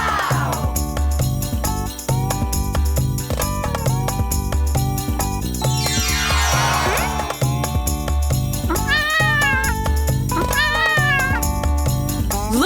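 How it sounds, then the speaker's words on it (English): A cartoon cat gives several drawn-out, wavering meows over a busy, rhythmic children's song backing. The calls rise and bend in pitch and are loud and close. "The baby cat is called a kitten."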